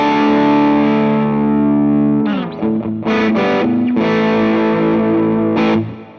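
Electric guitar on the bridge pickup through a Dumble-style HRM overdrive on a Quad Cortex: a thick, mid-focused, moderately driven tone with a long sustained chord, then several picked notes and chords ringing out, loud and up close.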